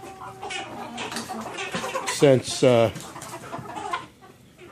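Nearly full-grown chickens kept in a shop cluck and squawk nearby, with a couple of louder harmonic calls standing out over someone talking.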